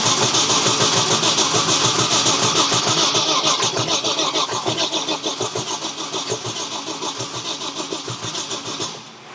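Ford Capri 2.9 Cosworth engine firing up for the first time, a loud close cranking that catches into a steady rough idle with a pulsing rhythm that settles over several seconds, no talking.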